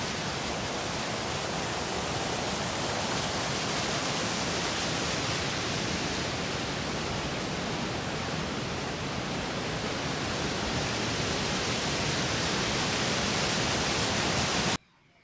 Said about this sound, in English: Wanted to give you that full sound of the water going down.